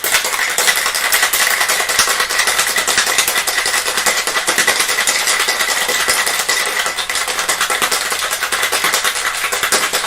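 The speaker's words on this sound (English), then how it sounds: "Now we're going to give that a rather good shake." A cocktail shaker full of a drink mixture is shaken hard, giving a loud, steady, continuous rattling wash that runs evenly for about ten seconds without pause.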